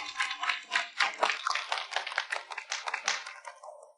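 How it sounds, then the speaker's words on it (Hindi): Audience clapping at a live stage event as a singer invites two guests up to perform, a steady burst of many hands applauding fairly close, thinning out toward the end with no talk over it. "तालियां बजाइए।"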